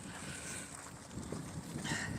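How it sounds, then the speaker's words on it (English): Wind blows outdoors on a nature walk, buffeting the microphone with a continuous rushing roar that swells slightly toward the end, with no speech. "It's usually windy out here though."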